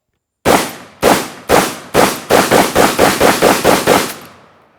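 A Vepr 12 semi-automatic shotgun fires birdshot target loads outdoors: eleven loud, sharp blasts, the first four spaced about half a second apart, then a faster steady string, each with a brief echoing tail.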